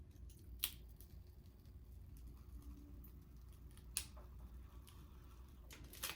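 Scissors make straight cuts in a quiet room, giving a few sparse, crisp snips spaced seconds apart and close to the listener.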